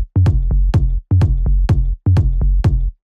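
A simple, generic house bass line thumps in three repeating one-bar phrases of deep punchy notes, loud and upfront, playing alone with no talking.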